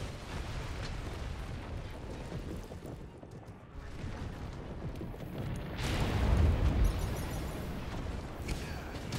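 Heavy rumbling bomb blasts from the video game Monster Hunter World, a sustained roar of booming detonations that swells louder partway through, with no talking.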